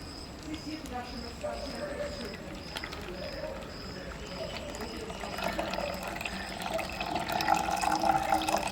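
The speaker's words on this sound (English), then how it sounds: "you have to add 500 ml of water" 500 ml of water is poured for an Ayurvedic herbal decoction, pouring and splashing at a moderate level, growing louder and fuller toward the end, with light clinks and kitchen clatter and no clear talking.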